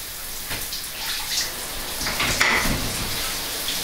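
Water from a shower runs steadily with a close, hissing spray and a few faint splashes and drips, heard alone for a few seconds.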